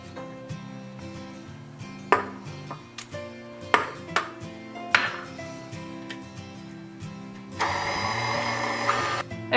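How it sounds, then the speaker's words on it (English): Kitchen clatter and knocks of eggs going into pumpkin cheesecake batter, then an electric mixer whirs into a steady, fairly loud drone near the end. "Now what we're gonna do is add our eggs and then mix again."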